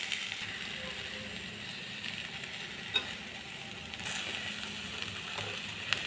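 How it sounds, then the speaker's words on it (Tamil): Okra sautéing in a pan makes a faint, continuous sizzle, with a few small clicks from stirring scattered through it. "வெண்டைக்காயும் போட்டு கொஞ்சம் வதக்கணும்."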